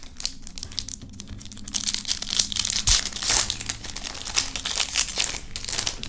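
Steady crinkling and crackling of foil trading card pack wrappers being torn open and handled up close, with a few sharper rips among continuous rustling.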